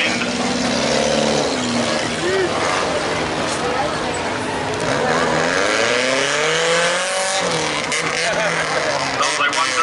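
Compact race cars at an autocross feature race in Hutchinson, Minnesota, their engines droning and revving loudly and steadily, with rising and falling pitch sweeps as they circle the track, while an announcer talks over the racket.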